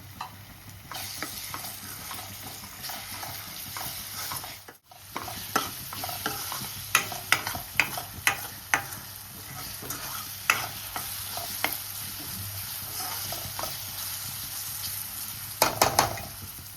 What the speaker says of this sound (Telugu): ఇప్పుడు కొంచెం ఇందులోకి అల్లం వెల్లుల్లి పేస్ట్ కూడా వేసుకొని ఫ్రై చేసుకుందాం